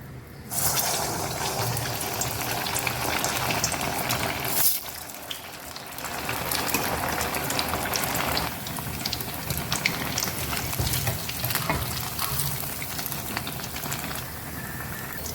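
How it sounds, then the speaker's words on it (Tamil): Bread rolls drop one at a time into hot oil and deep fry, a loud, dense bubbling hiss that runs continuously with a brief dip before it resumes. "இப்போ நம்ம ஒன்று ஒன்றா இதில் போட்டு பொரித்து எடுத்துக்கலாம்"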